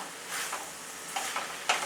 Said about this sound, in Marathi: नुसती वाफेवर हलवून बघायची एकदा